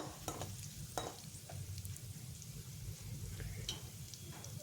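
Oil frying in a pan for egg fried rice at home, a steady low sizzle with occasional sharp scrapes and clicks of stirring, fairly quiet and continuous with no talk.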